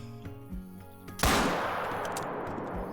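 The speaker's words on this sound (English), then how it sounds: "Now that was the 45 pistol." A .45 pistol fires once in the hunting video game Call of the Wild, a sharp, loud report with a long fading echo that breaks in after quiet tonal background music.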